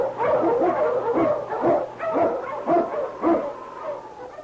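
A sled dog, an Eskimo lead dog, barks and yips in a rapid series of loud, close, slightly whining barks, old radio-show quality with a faint steady hum beneath.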